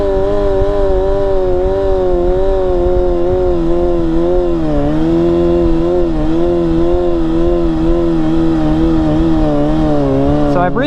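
Kawasaki 636 stunt motorcycle engine running steadily up close, a continuous loud idle-to-mid rev with slight pitch wobbles as the throttle is blipped, no talking.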